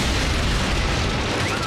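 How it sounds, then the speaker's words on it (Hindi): A cartoon weapon firing with a blast in an animated Transformers battle, a dense continuous booming roar of explosion noise, loud and close, filling the whole moment without letup. "फायरिंग जारी रखो।"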